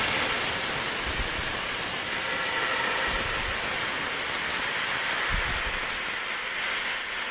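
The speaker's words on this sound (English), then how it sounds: "I'm going to take the vodka and deglaze the pan" Vodka hissing and sizzling as it deglazes a very hot pan, a loud steady steamy hiss that slowly fades toward the end, with no talking.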